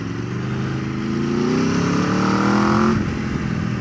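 An Aprilia RSV4 Factory motorcycle engine revs up hard nearby, its pitch climbing steadily into a loud high wail before dropping off suddenly near the end.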